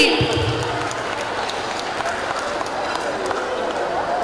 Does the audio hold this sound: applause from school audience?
yes